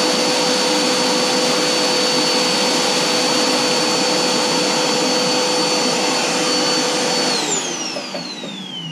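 Zig-zag seed cleaner running on black oil sunflower seeds, a steady loud broadband machine roar with a constant whine, winding down and fading slightly near the end.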